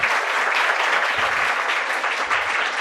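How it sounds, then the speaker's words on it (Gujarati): Students at a training program applaud their trainer in a steady, dense wash of clapping from many hands, fairly loud and continuous throughout with no talk. "બસ બસ બહુ તાળીઓ નથી પાડવી."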